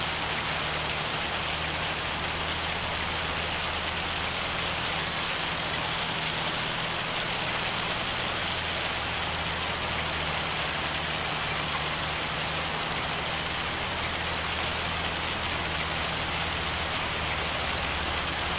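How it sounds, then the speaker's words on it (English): Rain falling in Farming Simulator 25 during field cultivation, a dense, steady, loud hiss of drops on surfaces that runs unbroken throughout with no talk. "Well, I'm glad it lets me cultivate in the rain."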